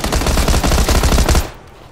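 Rapid automatic gunfire in PUBG, a dense burst of shots hammering for over a second before cutting off abruptly into a quieter tail.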